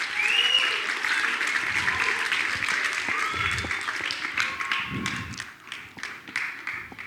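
Moderate clapping from a small gathered audience welcomes a musician to the table at a Christian music event, continuing steadily under faint background chatter and a few sharper taps.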